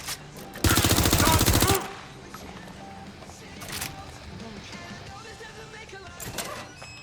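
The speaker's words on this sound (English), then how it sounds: "Suspect has opened fire!" A loud rapid burst of automatic gunfire rings out early in a Watch Dogs: Legion firefight, followed by quieter scattered shots and game ambience, with speech present.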